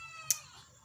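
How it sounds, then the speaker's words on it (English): A pet cat named Nona gives a single short, high meow asking for food, brief and fairly faint against quiet room tone. "that's my cat, and he's asking for food."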